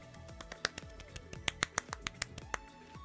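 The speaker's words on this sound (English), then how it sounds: "That was me clapping" One person claps by hand, a string of sharp, uneven claps spaced irregularly over a few seconds, fairly close and moderately loud.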